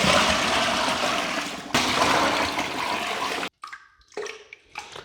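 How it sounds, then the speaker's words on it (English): Water pours steadily into a ginger beer fermenter as it is topped up to 23 litres, a loud continuous rush that cuts out midway and leaves a few brief splashes and trickles. "now I'm going to bring it up to 23 litres of water"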